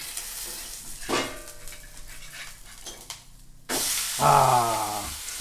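An onion and tomato uttapam sizzles quietly on a hot pan with a clatter of a spatula, then bursts into a loud, close sizzle as it is flipped over.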